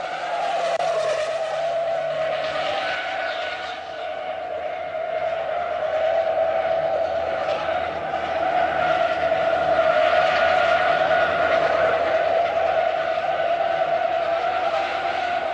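Simca 1301 from 1970 driven hard around a test track, a sustained tire squeal and skid over a steady engine drone, loud and continuous throughout.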